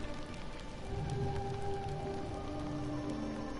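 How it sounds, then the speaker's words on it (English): Heavy rain in the video game Burly Men at Sea, a steady dense patter with faint tonal hums underneath, continuous and fairly quiet, with no talking. "as the rain tumbles heavily over them, they begin to hear a familiar wordless chorus"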